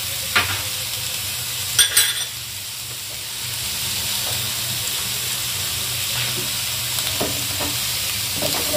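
Carrots and tomatoes being stirred as they fry for pav bhaji, a steady sizzle with a few scraping stirs of the spoon against the pan, close and continuous with no talking.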